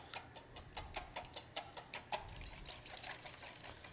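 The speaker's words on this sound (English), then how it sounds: "We're going to start whisking the eggs" Eggs being whisked in a bowl for bucatini carbonara, a quick run of light, even clicking strokes that fades into softer, continuous stirring, close and quiet with no talk.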